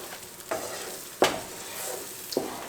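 Spoon scraping and stirring huitlacoche soup in a cooking pot, three distinct strokes spaced about a second apart over a soft, steady background hiss, with no voices.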